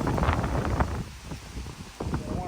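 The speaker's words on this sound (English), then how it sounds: "The wind is picking up. Got some big gusts going on." Strong wind gusting across an outdoor microphone ahead of an approaching storm, a loud, steady roar with surging bursts and rustling, continuous throughout.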